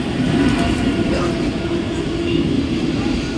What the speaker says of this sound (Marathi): प्लॅटफॉर्म क्रमांक 2 वर आलेली local 8:38 Mumbai Chhatrapati Shivaji Maharaj terminus local है